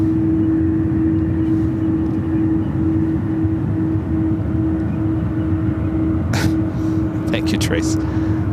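Delta airplane taking off at San Francisco International Airport, a steady droning engine roar with a tonal hum heard from a distance under continuous talking.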